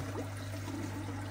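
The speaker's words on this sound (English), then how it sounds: "I've got this short hose that I stick into the reservoir and then I open up this tap" Tap water flowing through a short hose into a hydroponics reservoir, a steady continuous gurgling rush close by, with no voices.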